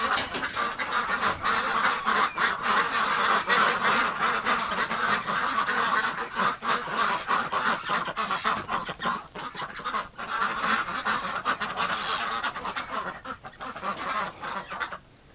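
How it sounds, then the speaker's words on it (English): Ducks quack and honk in a busy, continuous chorus inside a barn in cold winter weather, near and steady throughout with no talking. "I'm here with water ducks."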